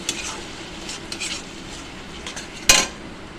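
Poppy seed paste is stirred in a pan for piyaj posto, with a soft continuous sizzle, light scraping strokes, and one sharp metallic clink near the end.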